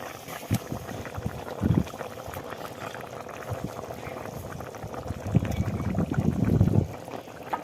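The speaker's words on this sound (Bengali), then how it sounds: "এই যে মাছগুলো দিয়ে দিচ্ছি" Fish pieces go into a bubbling pot of Bengali taro (mankochu) curry. A steady simmer runs throughout, broken by a few low, wet plops and splashes as the pieces drop in.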